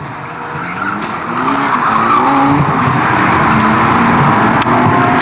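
Rookie banger race cars pull away at Fleet Raceway when the green flag drops, engines roaring loud and close with squealing tires as the pack moves off together.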